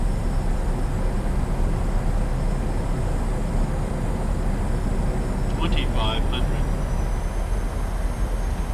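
Steady airliner cabin and engine drone from a PMDG 737-700 on approach with gear extended in a flight simulator, a continuous broadband roar with a brief higher whine near the end.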